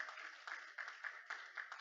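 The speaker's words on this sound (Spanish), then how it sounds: "Denle ese aplauso fuerte al Dios de Israel." Church congregation applauding during a service, quick bursts of clapping in a steady uneven rhythm, faint and distant.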